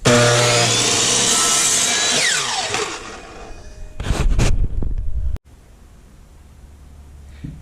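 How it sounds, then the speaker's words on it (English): A power miter saw slices through wood with a loud, harsh whine for about two and a half seconds. The blade then winds down, followed by a few short clattering bursts and a sharp knock. "Here is a power miter box for cutting wood."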